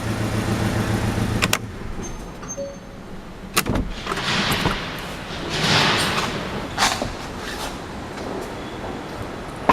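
A 2017 Porsche 718 Cayman's idling engine shuts off after a low rumble, followed by a few sharp clicks and thuds in a quiet cabin.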